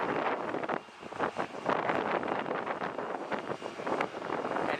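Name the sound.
wind blowing, wind noise on microphone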